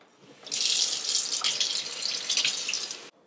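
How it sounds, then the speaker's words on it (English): Water runs steadily from a kitchen sink tap while lettuce is rinsed, a bright, close splashing stream that starts abruptly and stops cleanly after about two and a half seconds. "let's head over to the sink and I'm going to show you how to rinse your lettuce"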